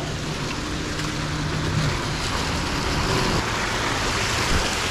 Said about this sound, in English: We got good flow of water coming in.